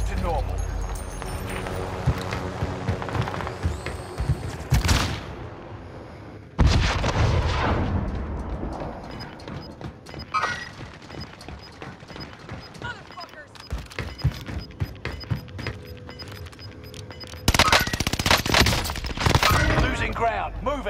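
Gunfire and explosions ring out in a multiplayer shooter video game, with sharp bursts near 5 s, 7 s and 17–20 s over a steady wash of battle noise while players talk throughout.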